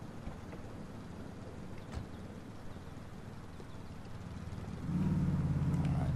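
A car drives in GTA IV, a low steady engine rumble with road noise that swells louder and more tonal near the end, no talking.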